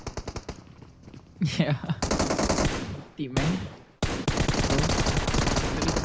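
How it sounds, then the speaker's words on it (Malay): Bursts of automatic gunfire from PUBG Mobile during a competitive match, rapid loud volleys repeating throughout, with a caster talking briefly over the shooting. "Telah pun bermula tembakan di kebanyakan kawasan."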